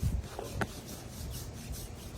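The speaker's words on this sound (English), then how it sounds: "He loves belly rubs." Hands rub a pig's belly, giving a soft, low scratchy rubbing sound that is faint and close, repeating in short strokes without voices.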